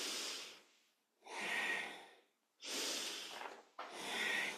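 Rhythmic breathing synced with movement in a kundalini yoga kriya: four strong, forceful breaths alternating in a steady rhythm with short gaps, close and loud, with no talk.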